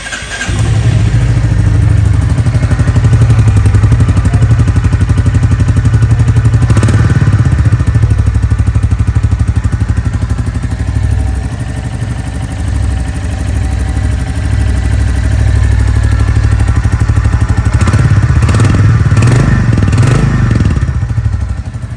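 A Royal Enfield Bullet 350 Battalion Black motorcycle engine idles close up with a deep, steady thumping rhythm, briefly revved a couple of times.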